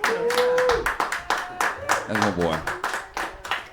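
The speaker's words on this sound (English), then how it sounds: "Now everybody clap" A small audience claps along at a song showcase, quick uneven bursts of hand claps under a person talking and singing, fairly close.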